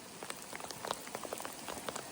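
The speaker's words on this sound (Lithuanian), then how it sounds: "gal kažkaip pravažiuosim ir nustos liet" Rain falling during a bicycle trip through northern Sweden, a dense, faint patter of drops on surfaces with no voices.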